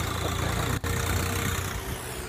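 A Swaraj 855 FE tractor engine idles steadily with a low, continuous rumble, a very brief dropout just under a second in, then the same even running sound with no talk.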